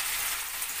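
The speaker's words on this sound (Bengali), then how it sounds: "মাছগুলোকে মশলা মাখানো মাছগুলোকে আমি এই তেলের মধ্যে ছেড়ে দিচ্ছি।" Spice-coated fish dropped into hot oil for a tangra curry, a brief loud hiss of sizzling, close and continuous, no talk.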